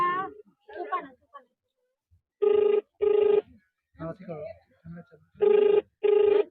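An outgoing phone call rings back in two pairs of loud, steady electronic tones, with people talking in between the rings.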